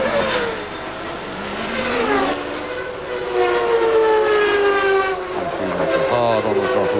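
A 1993 McLaren-Ford Formula 1 car at the Canadian Grand Prix, driven flat out to about 13,000 rpm through the gears, its engine wailing loudly with rising and falling harmonic pitch sweeps as the gears change.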